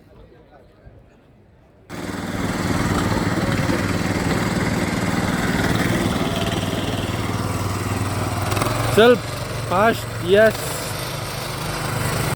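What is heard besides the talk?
Bahubali machine engine running to fill sprayer with water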